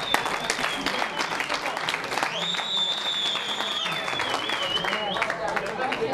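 An outdoor crowd at a regional cycling festival claps steadily in moderate applause, with an announcer talking over it and a thin whistling tone drifting through the middle.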